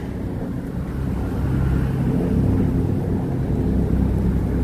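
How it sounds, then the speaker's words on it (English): Distant city traffic heard from high above Midtown Manhattan, blending into a steady wash of broadband noise with a low rumble that swells slightly, no distinct vehicles or voices standing out. "You can kind of hear the sounds of traffic, but this far away, it sounds more like white noise."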